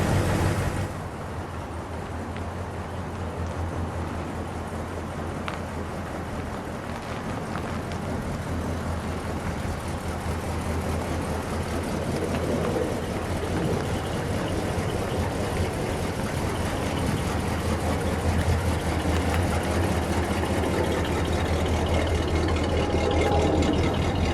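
A 1960 Chrysler 300F two-door hardtop runs at a steady idle, a deep, even engine rumble with a constant low hum heard close and alone for the whole stretch.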